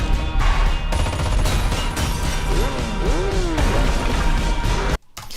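Gunfire sound effects punch through a dense, loud trailer mix for the Argylle movie, with sharp bursts and impacts layered over driving music, then a sudden cut near the end.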